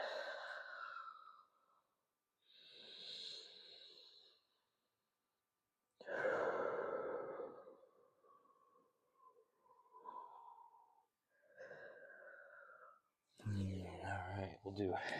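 Audible breaths during a back and shoulder-blade stretch in a home workout, several slow sighing exhales spaced apart, fairly close, with a burst of other noise near the end.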